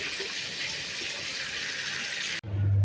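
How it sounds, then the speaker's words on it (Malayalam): About two glasses of water pour into a chicken curry cooking with biryani masala and turmeric, a steady, close rushing splash that cuts off abruptly near the end. "ഇത് വെള്ളം ഒഴിച്ചതാണ്, 2 ഗ്ലാസ് വെള്ളം ഇട്ട് എല്ലാം ഇട്ട് റെഡി ആക്കി"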